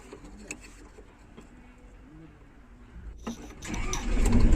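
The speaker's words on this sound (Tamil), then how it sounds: "அடுத்தது நீங்கள் இன்ஜினை ஸ்டார்ட் பண்ண உடனே இந்த மீட்டர் ரியல் மீட்டர் ஆன் ஆகிடுங்க." The engine of a newer-model Hitachi or Komatsu excavator cranks and catches after a quiet stretch with faint clicks, then settles into a loud, rising rumble near the end.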